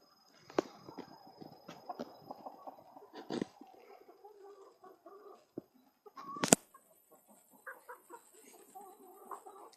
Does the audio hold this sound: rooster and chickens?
yes